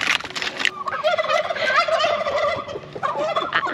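Turkeys gobble loudly and close by in a backyard garden kept among chickens and turkeys, a run of bubbling, warbling calls repeated across the stretch with short gaps between them.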